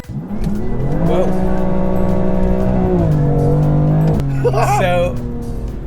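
BMW M2 Competition driven fast, its engine note rising through revs, dipping and rising again, then shifting gear with a sudden drop in pitch; loud in-cabin sound with a voice chiming in near the end.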